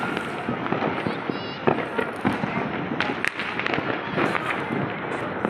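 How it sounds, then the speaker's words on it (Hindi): Diwali firecrackers and fireworks burst repeatedly around a festive street in Ludhiana, a dense crackle of sharp pops and louder bangs with a whistling rocket, mixed with crowd noise and people talking. "ये जो पटाखा है बहुत ही खतरनाक हम लोग जला रहे हैं"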